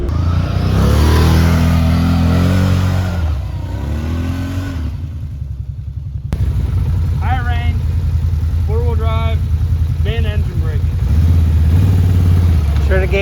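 Can-Am Renegade 1000 ATV engine under way outdoors, a loud steady rumble that rises and falls with throttle, dipping briefly midway, with someone talking over it.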